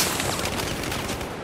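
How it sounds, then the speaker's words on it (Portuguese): Dense, overlapping gunfire from the World War I shooter game Battlefield 1 crackles in a short, continuous burst of rapid shots with no talking. "levei um tiro de Doc ali"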